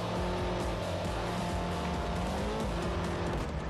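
A race car roars around a circuit in Forza 4, its engine droning steadily loud throughout with shifting pitch and faint tire noise, no talk.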